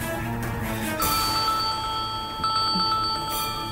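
A mobile phone rings with a steady electronic tone, sustained tonal pulses repeating over a low background hum, fairly close and alone with no talk.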